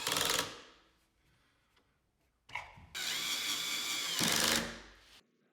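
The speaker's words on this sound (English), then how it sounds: "Like when you forget to drill your pocket holes." A power drill boring pocket holes in wood with a Kreg K4 pocket-hole jig, in short close bursts separated by pauses, with no talking.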